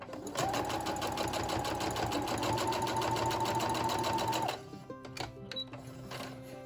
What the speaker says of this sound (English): put it under the needle and sew away